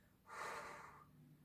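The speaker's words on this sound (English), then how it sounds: "You'll hear me breathing." One forceful, focused breath is pushed out hard through the nose and mouth during a workout exercise, rising quickly and then fading over about a second.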